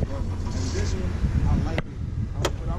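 A 2018 Honda Accord 2.0 turbo engine idles with the hood open, giving a steady low rumble under a voice talking, with two sharp clicks near the end.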